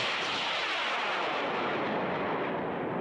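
Rocket launched at the Desert Blast event, a loud, sustained roaring whoosh of the motor burning, broad and harsh, with a slight falling sweep as it climbs away; no voices over it.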